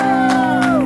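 A festival crowd at the Riverfront Blues Festival cheers and shouts together in a brief, loud burst of massed voices.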